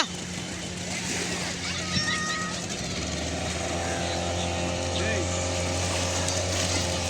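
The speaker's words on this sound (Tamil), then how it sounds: "ஸ்டார்ட் பண்ணியாச்சு இன்ஜினு." A motorboat engine on a beach boat ride at Muthu Nagar Beach, Thoothukudi, hums steadily at a moderate distance, its low drone rising slightly partway through, with voices talking over it.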